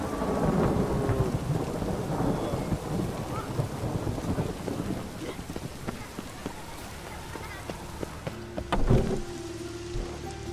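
Steady rain pours down in a Witcher 3 game scene, and low thunder rumbles through it with a sharper crack near the end; no one speaks.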